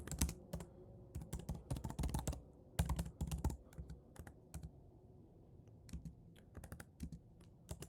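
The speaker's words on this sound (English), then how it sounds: "Then I'll just type category name." Rapid clattering keystrokes on a computer keyboard while entering SQL code, close and clear, in irregular bursts with short pauses and no talking.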